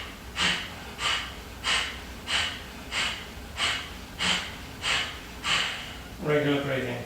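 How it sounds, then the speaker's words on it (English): Kapalabhati yoga breathing: nine sharp, forceful noisy exhales through the nose at an even pace of about one per second, close and loud, followed by a brief spoken word. "So Kapalabhati breathing, as I say, is an energizing breath."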